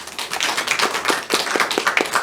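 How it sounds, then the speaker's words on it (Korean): A church congregation claps together in a rhythmic run of sharp, evenly spaced hand claps, close and lively, with no voices over it. "하나님께 영광의 박수 돌립시다"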